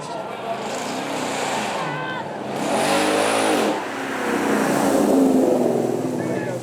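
Lamborghini supercars, a trio of them, accelerating away at a supercar weekend event, engines rising in pitch with revving swells, mixed with crowd noise and a commentator talking throughout.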